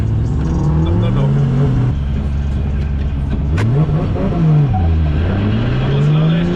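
A 2JZ-powered drift car on a track, with a misfiring engine, revs hard and loud and close, its pitch climbing, dropping and surging again in repeated sweeps.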